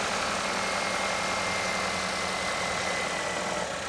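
A Chevrolet Equinox engine with an intermittent power-loss fault idles with a steady, even hum and faint rough shaking, close and continuous with no talk.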